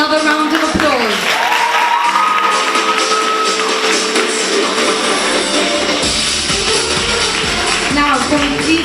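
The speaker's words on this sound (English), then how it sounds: "Can we give the girls another round of applause?" Applause and crowd noise from the audience at the Miss Glamour 2019 beauty pageant, loud and steady throughout, with tones and a voice over a sound system mixed in.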